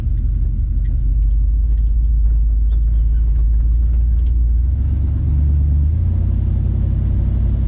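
A 1962 Chevy Impala V8 on the road, its engine a steady low rumble beneath a constant broadband drone, deepening and growing fuller about two-thirds through as the car picks up speed.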